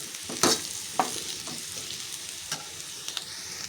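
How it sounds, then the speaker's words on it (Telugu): Potatoes and curry leaves frying in a pan, a steady low sizzle under a few sharp stirring scrapes and clinks of the spoon. "ఒక 5 నిమిషాలు బాగా ఫ్రై అవనిద్దాం."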